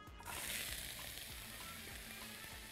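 Sliced onion hits hot corn or sunflower oil in a pan with a sudden burst of sizzling that settles into a steady, bright crackle. Faint utensil clicks sound underneath.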